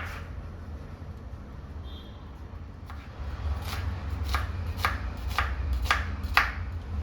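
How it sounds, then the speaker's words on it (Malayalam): A knife chops through an onion on a cutting board in a home kitchen: about eight crisp, evenly spaced strikes come in the second half, over a soft steady background hum. "സവാള അരിയാൻ പോവാണ് ഗൈസ്"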